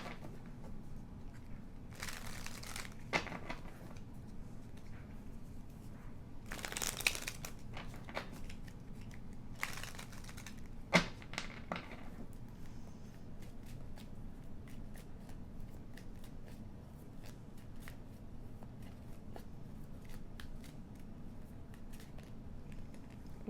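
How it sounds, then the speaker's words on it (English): Tarot cards are shuffled and pulled in a quiet room, with several short bursts of riffling and flicking among faint rustles and soft handling noises, no speech. "Let's pull one of these cards."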